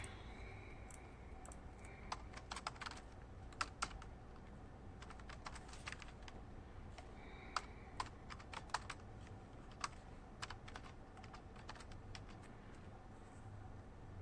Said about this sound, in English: let's type this into Desmos.